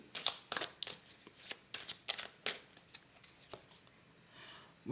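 Tarot cards are drawn and laid down one after another, a series of crisp close slaps and swishes of card stock at an uneven rhythm, with no talking.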